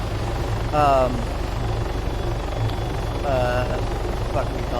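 Helicopter flying in Arma 3, a steady low rotor drone throughout, with a voice talking over it in two short bursts.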